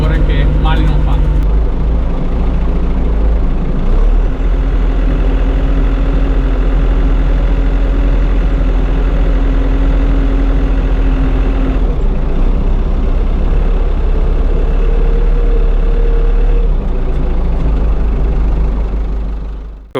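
A steady, loud New Holland tractor engine drones at low pitch throughout, rumbling continuously while running a Berti flail mower cutting grass in a vineyard.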